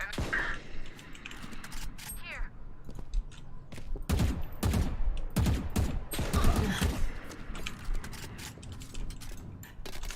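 Video game gunfire rings out in a sporadic, mid-distance fusillade of sharp shots, with mechanical clicks and rattles between bursts and no talk.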